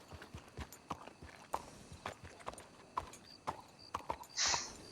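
Horses in the video game Red Dead Redemption 2, hooves clip-clopping in an uneven walking rhythm, fairly close and clear, ending with a brief snort or whinny; no talk over it.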